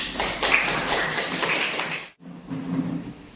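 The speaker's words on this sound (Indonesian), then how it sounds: "Berikan aplaus untuk Rani." A classroom group claps for about two seconds in a quick, fairly even patter, then it stops and leaves only quiet room tone.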